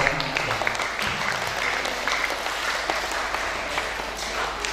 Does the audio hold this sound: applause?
yes